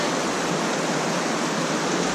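Hot spring waterfall pouring steadily into a creek-fed pool, a loud, continuous broadband splashing rush with no pauses, close by and alone.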